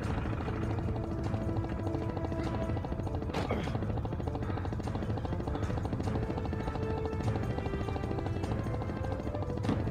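Helicopter rotor chopping steadily through an action scene in the video game Heavy Fire: Shattered Spear, with bursts of gunfire cracking over the continuous drone.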